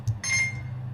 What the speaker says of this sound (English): There was an alarm to eat lunch because I forget to eat lunch sometimes.